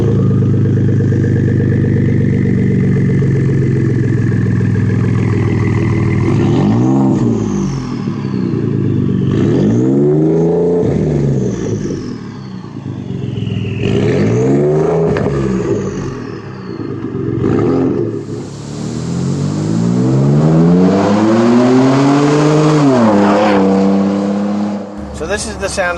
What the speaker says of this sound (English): So this is the sound of the vehicle under normal driving conditions.